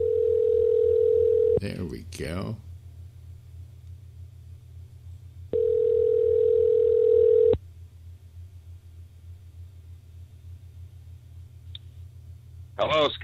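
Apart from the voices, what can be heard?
telephone call dialing and ringing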